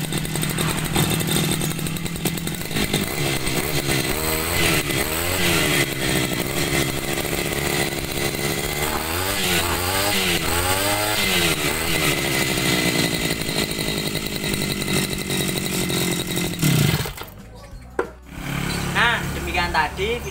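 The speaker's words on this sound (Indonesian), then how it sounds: "mesin potong rumput ini sudah tidak ada masalah. Nah langsung saja kita hidupkan ya." Small two-stroke-style lawn mower engine running after its flooded carburetor was fixed, a loud continuous buzzing drone with rising and falling revs, briefly dipping near the end before picking up again.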